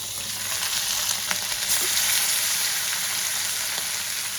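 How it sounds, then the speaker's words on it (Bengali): Pieces of rohu fish fry in hot oil, a dense, continuous crackling sizzle up close with a few sharper pops and light stirring scrapes, and no talking. "এবার আমি এক এক করে দিয়ে মাছগুলোকে লাল লাল করে ভেজে নেব"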